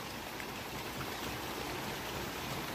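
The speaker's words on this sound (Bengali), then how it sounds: "কিছুটা ঝিম মেরে গেছে বৃষ্টি।" Light rain falling outdoors gives a faint, even patter and wash that holds steady with no distinct drops standing out and no voices.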